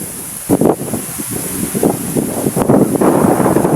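Gusty wind on a mountaintop rumbles and roars against the microphone in uneven bursts, loud and close throughout.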